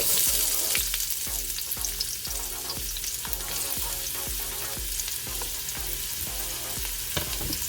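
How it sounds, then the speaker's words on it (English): Onion and garlic fry in hot oil for a stuffed eggplant filling, a loud, continuous sizzle with crackling pops and occasional stirring scrapes and clicks, close up and alone without speech. "So first we are going to put some oil. And we'll add in our onion and garlic."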